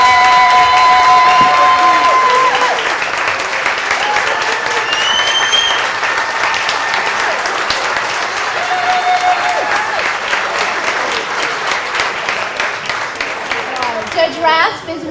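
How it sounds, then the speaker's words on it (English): Sustained applause from a large crowd, dense steady clapping that fills the room, with a few scattered voices and whistles mixed in. "please stand and get a round of applause"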